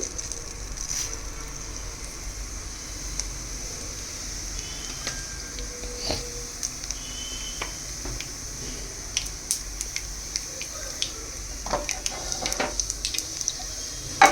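Mustard seeds and cumin crackle in hot oil for a millet ponganalu tempering, a soft steady sizzle with scattered small pops and spits growing busier toward the end, heard alone without speech.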